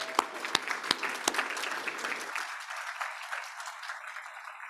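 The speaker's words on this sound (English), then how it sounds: "So let's give her a big round of applause." Applause from the audience at a transit summit in Oregon, a crowd clapping steadily with a few sharp, louder claps near the start, then continuing as a moderate, even patter that thins slightly toward the end.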